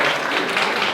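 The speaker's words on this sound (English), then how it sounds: "Can we have a round of applause for the two gentlemen?" An audience applauds two gentlemen at an art exhibition, with a short, steady wash of clapping that stays loud for about a second.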